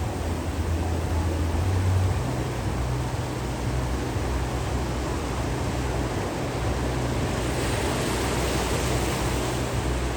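Ocean waves breaking on the Kailua Kona coast in Hawaii during the first winter swell: a continuous broad wash of surf roar, steady and fairly loud, with no distinct individual breaks.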